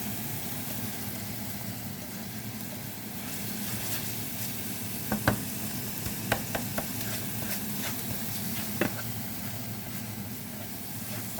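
Onions and lardons frying in a pan for carbonara, a quiet continuous sizzle with a few scattered clicks and taps from a utensil, faint and close, no speech.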